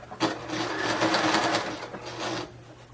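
A sewing machine stitches fabric for a slipcover at high speed, a rapid, steady mechanical whir running close and loud for a few seconds before easing off near the end.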